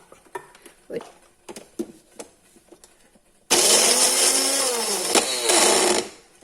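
Green chilies and ginger crushed coarsely in a mixer grinder for a curd lemon pickle: a loud whirring grind switches on abruptly and runs for nearly three seconds before stopping, after a stretch of scattered light knocks and handling sounds.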